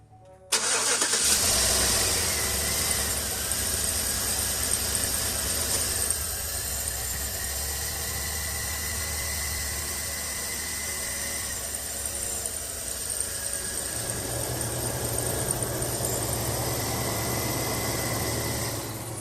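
A 2012 Chevy Tahoe engine cranks and catches within the first second, then idles steadily up close. The idle holds a constant mid-pitched hum that settles into a deeper drone near the end.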